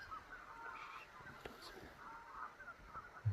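Faint geese honk in the distance, a few scattered calls over quiet outdoor ambience, soft and far away.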